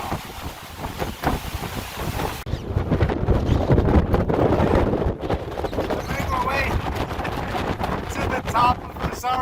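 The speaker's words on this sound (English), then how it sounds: "this is over 50-mile-an-hour gusts" Hurricane wind gusting over 50 mph atop a rocky point more than 100 feet above the water, roaring and buffeting the microphone in a steady heavy rush, with a voice speaking briefly.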